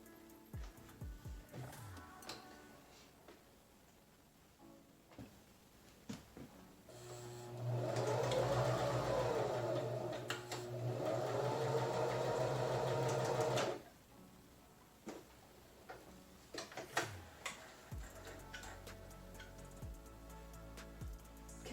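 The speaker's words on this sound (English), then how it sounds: "So I'm just going to sew straight down this blue line." A sewing machine stitches fabric for box pleats along a marked line, running steadily for about six seconds in the middle, with quieter handling clicks and fabric rustle before and after.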